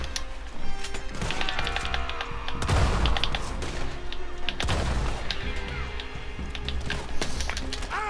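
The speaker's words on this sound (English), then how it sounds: "Oh shoot, I'm getting shot in the head." Gunfire rattles through a Red Dead Western shootout, with repeated loud shots and heavy impacts mixed with busy game noise across the whole stretch.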